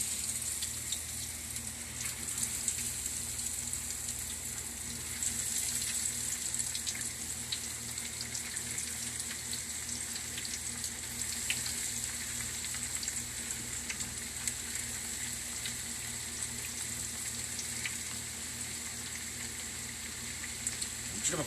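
Breadcrumb-coated tempura frying in hot oil, a steady crackling sizzle with fine popping that runs continuously and fairly quietly for the whole stretch, with no talk.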